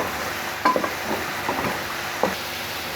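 Beef sizzles in a pot while a spoon stirs in crushed red chilli and salt, with a few sharp metal scrapes and clinks over a steady soft frying hiss.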